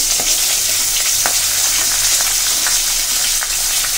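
Cabbage cooking with fish head in a pan gives a dense, continuous close sizzle, broken by a few soft scraping stirs and clinks, with no talking.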